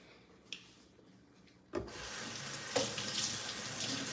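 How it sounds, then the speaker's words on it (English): A kitchen knife is rinsed under a running tap after cutting a banana, a steady close hiss of faucet water splashing over the blade and into the sink, starting abruptly after a brief quiet with a clatter partway through. "Rinsing off my knife."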